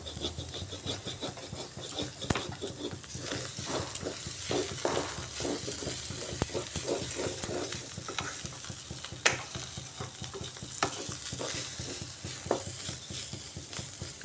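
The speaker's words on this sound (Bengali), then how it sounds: "যতক্ষণ না একদম ঝরঝরে হচ্ছে পুরের মশলাটা ততক্ষণ এটাকে ভাজতে হবে" Spiced grain and nut stuffing with green chilli fries and gets stirred in a pan, a steady close sizzle broken by repeated scraping and clacking strokes of the spoon, with no one speaking.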